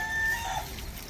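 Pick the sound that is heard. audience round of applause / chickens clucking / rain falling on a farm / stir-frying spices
chickens clucking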